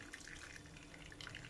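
Boiled water from a kettle, about 1.5 litres, is poured into a pot over salted and peppered soup ingredients, making a steady, close splashing stream that runs unbroken the whole time.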